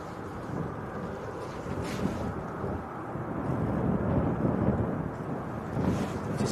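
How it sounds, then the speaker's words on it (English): Virgin heavy jet taxiing out at Manchester Airport, a low, rumbling engine drone heard at a distance, steady with slow swells in loudness and some wind buffeting. "Virgin 127 to New York, just starting to taxi out."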